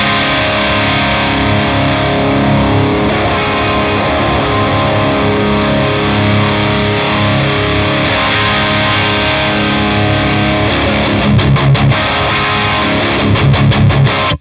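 Heavily distorted electric guitar played through a Friedman Jose 20 amplifier, a loud, dense sustained rhythm part with chugging palm-muted hits toward the end, no talking over it.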